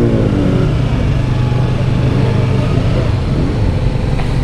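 Kawasaki Z800 motorcycle engine running loud and steady on a slope, a continuous low rumble held close by with no talking in the clip.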